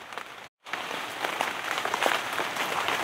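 Steady rain patters down outdoors during mushroom foraging, a dense, even hiss of drops with scattered brighter taps. It holds constant apart from a brief cut near the start, with no talking.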